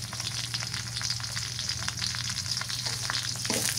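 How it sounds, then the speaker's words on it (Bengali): Garlic frying in hot oil in a pan for a Bengali greens dish, a steady dense sizzle with crackling and faint stirring, close and continuous throughout. "এবার দিয়ে দিই রসুন থাকলাম।"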